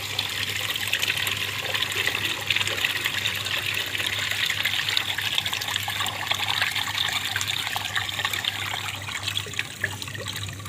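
Water gushes and trickles continuously while an FCU coil is backwashed, a steady rushing flow under a low hum.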